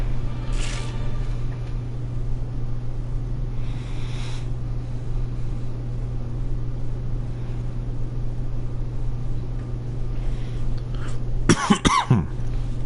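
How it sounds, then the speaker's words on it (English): A single harsh cough bursts out near the end over a steady low droning hum, close and fairly loud. "I've been fighting this damn cough for a month now"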